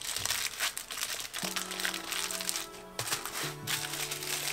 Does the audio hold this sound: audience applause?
no